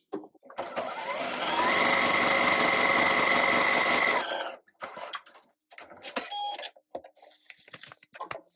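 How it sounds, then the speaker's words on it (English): A sewing machine stitches a seam through foundation paper pieced quilt fabric in one steady, fast run of about four seconds, then stops, followed by quiet handling and fabric rustling. "I'm just going to sew right between E1 and E2, right on this line."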